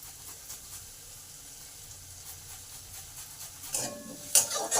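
Onion, grated ginger and broken green chilli fry lightly in a pan, giving a soft, steady sizzle, with a spatula stirring and scraping the pan near the end.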